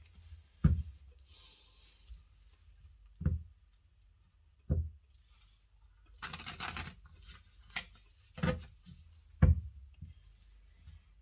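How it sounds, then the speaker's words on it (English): An oracle card deck being shuffled, producing sparse soft taps and brief riffling bursts at irregular intervals, with one longer papery flutter in the middle, close and quiet. "Please give me one shuffle."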